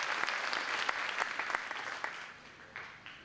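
Audience applause for dignitaries at a 2011 Fred Korematsu Day ceremony, a steady wash of many hands clapping with a few sharper claps standing out, fading slightly toward the end.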